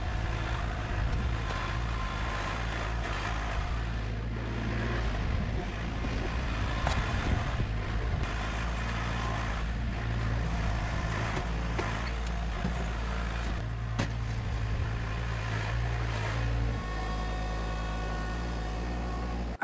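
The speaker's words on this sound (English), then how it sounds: "Let's grab the tractor, scoop this out, and see what we got so far." A tractor's heavy diesel engine runs steadily at a low, constant rumble with a slight change in pitch near the end, with no voices.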